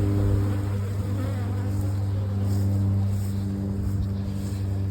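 Honey bees from Italian nucs drone in a steady, dense hum close by, a continuous buzz with no talk over it.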